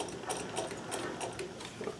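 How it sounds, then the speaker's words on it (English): A sewing machine top stitching a collar, running steadily with a fast, even mechanical ticking close by, and no talking. "we'll do top stitching and that will seal it shut"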